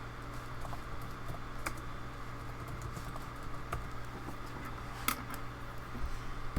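Someone types text on a computer keyboard in a drawing program, a quiet, irregular patter of soft key taps over a steady fan-like hum, with one sharper click.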